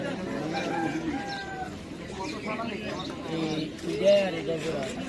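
Desi pigeons cooing at a busy pigeon market, soft repeated coos mixed with people talking nearby and general crowd chatter.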